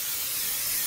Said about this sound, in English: I'm going to spray the casserole dish because I don't want all that cheese and good stuff to stick to my dish